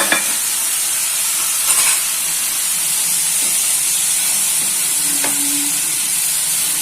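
Moringa drumsticks and chicken going into a frying curry, giving a steady loud sizzle and hiss of hot oil that runs throughout, with a few faint clinks near the start and end.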